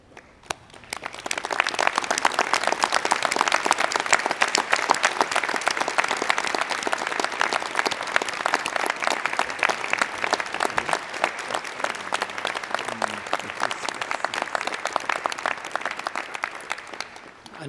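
Graduates at a postgraduate academic awards conferring ceremony applaud their families, a dense, sustained round of clapping from a large crowd that swells quickly and holds for over fifteen seconds before tapering off.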